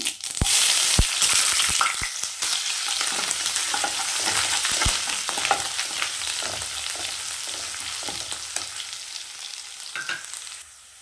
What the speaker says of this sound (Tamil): கடுகு உளுத்தம்பருப்பு போட்டுக்கலாம். இஞ்சி பூண்டு பேஸ்ட்டு